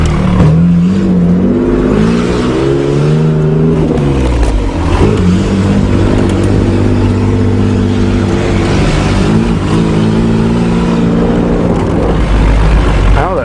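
1986 Nissan 4x4 truck engine running loud and close while driving, revs climbing and dropping through gear shifts in a steady droning hum across the whole stretch.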